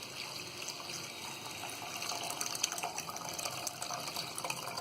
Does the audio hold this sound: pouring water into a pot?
yes